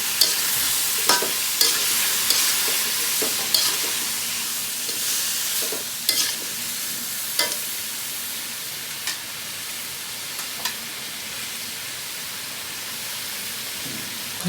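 Vegetables with turmeric powder stir-fry in a pan, a loud steady sizzle with a spatula scraping and tapping at intervals, close and continuous with no voices.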